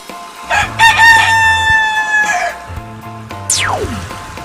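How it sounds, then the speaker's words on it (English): A farm rooster gives one clear, close crow with a rising start and long held note, followed by a short falling whistle-like sweep and a low background hum. "Rooster."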